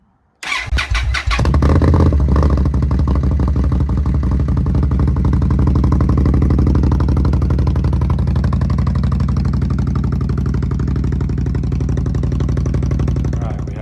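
An Indian Scout Bobber motorcycle, a 69-cubic-inch 1133cc V-twin fitted with an RSD exhaust, starts with a short burst of cranking, then settles into a loud, close, throbbing idle that runs on steadily.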